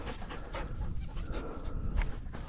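Dogs pant rapidly and steadily close by on a morning outing, a continuous breathy rhythm with faint footsteps and movement and no talking.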